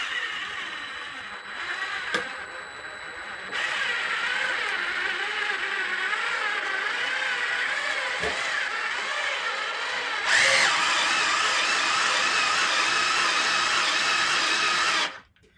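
A power drill drives a Vevor motorcycle lift, raising a motorcycle off the floor; a steady, loud whirring motor runs continuously for about eleven seconds, stepping up in intensity partway through before cutting off abruptly.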